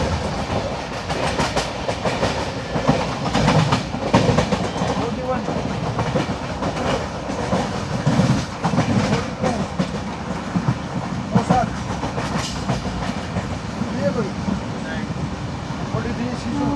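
Nizamuddin Ernakulam Duronto Express heard from inside a sleeper class coach while moving, with a steady rumble and repeated clickety-clack of wheels over rail joints, carrying on continuously and loudly throughout.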